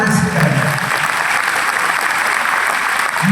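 An audience at a Hindi poetry recitation claps steadily, a dense sustained roll of applause from a full hall, loud and continuous with a faint voice near the start and end.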